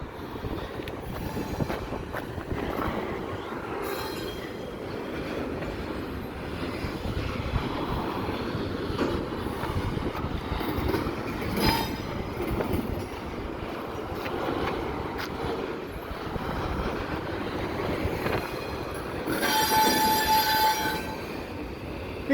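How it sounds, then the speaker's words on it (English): CPKC 112 intermodal freight train rolling past near a bridge at the Lachine yard, a steady loud rumble of cars with thin wheel squeals rising now and then and a louder screech near the end. "That's more of the train where it's broken up."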